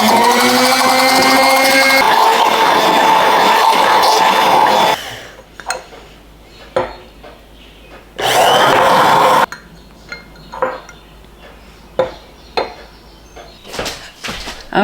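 A blender whirs loudly while emulsifying bacon grease into mayonnaise, running in two bursts separated by clinks and knocks of jars and utensils on a kitchen counter.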